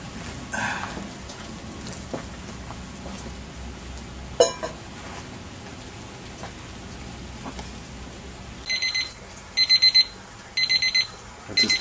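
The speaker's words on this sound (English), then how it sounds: "That's his timer going off." A kitchen timer alarm, set during beer brewing, goes off with three short bursts of repeated high electronic beeping near the end, over a steady rain-like hiss and faint background clatter.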